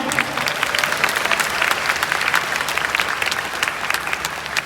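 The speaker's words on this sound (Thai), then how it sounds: "ขอเสียงปรบมือให้กับศิลปินทุกท่านอีกครั้งหนึ่งครับ" A crowd claps hard and continuously for the artists at the close of a concert, a thick, even wash of applause lasting several seconds without a break.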